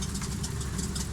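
A seaplane engine idles on a beach in Scotland, a steady, loud, close rumble with a faint rhythmic chug, alone with no talk.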